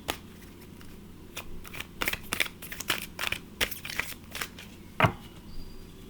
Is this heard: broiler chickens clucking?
no